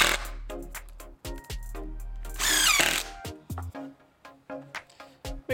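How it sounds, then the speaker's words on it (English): A power drill drives screws into the base of a cart for a roof top tent, giving a brief whirring run amid short start-stop bursts and clattering handling noise. "And we'll put some screws in the bottom for extra assurance."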